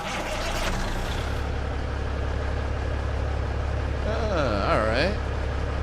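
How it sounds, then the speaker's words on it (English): A Kenworth T2000 truck engine in American Truck Simulator cranks and catches, then settles into a steady low idle rumble, close and continuous, with a brief higher whine near the end. "Let's see how this truck sounds when we start it."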